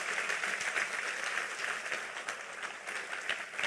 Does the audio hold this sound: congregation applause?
yes